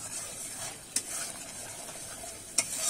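A paste of ground mustard with green chillies and salt fries in oil in a pan, a soft steady sizzle broken by two brief sharp clicks of a utensil.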